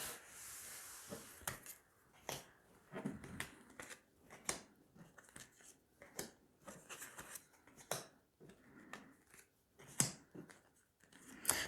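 Tarot cards are shuffled and drawn by hand in a steady series of soft, close rubbing and sliding swishes with small taps, running continuously at low volume.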